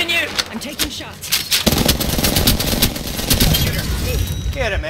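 Bursts of rapid gunfire from the Apex Legends video game, dense automatic shots rattling across most of the stretch at fairly close range, with faint voices in the background.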